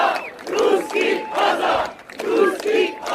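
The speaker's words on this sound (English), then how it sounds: "And the crowd started cheering" A large crowd at a political rally in Hungary roars in rhythmic chanting waves, loud, close and repeated in pulsing bursts about every half second.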